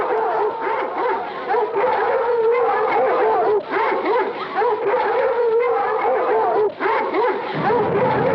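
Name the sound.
pack of hounds barking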